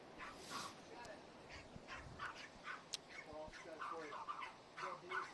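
Dogs bark and yip at a surfing contest on Pismo Beach, a string of sharp, fairly faint calls scattered through a noisy outdoor background, with some squeaky whimpers between them.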